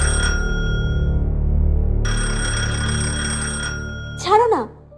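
A telephone rings in a dramatized Bangla horror story, sounding as a short ring at the start and then a longer, loud, buzzing electronic tone before a brief swooping sound ends the clip.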